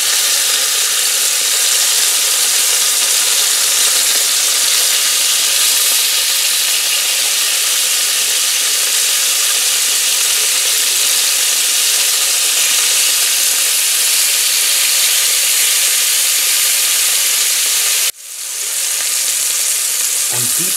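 Chicken skewers sizzle loudly in a hot frying pan for Balkan ražnjići, a dense continuous crackle that dips briefly near the end before resuming.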